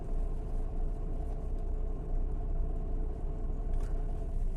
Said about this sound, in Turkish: Araba gidiyor.